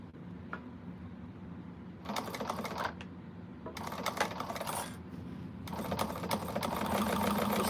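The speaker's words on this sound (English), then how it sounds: "So let's go ahead and get this top stitched on." A sewing machine top stitches an Ellana bag in bursts of rapid close mechanical clatter over a constant low motor hum, stopping and starting several times and growing longer toward the end.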